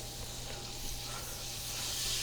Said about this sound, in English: you see how it's sizzling up and smoking up there already,